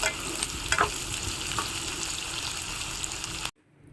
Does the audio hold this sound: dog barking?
no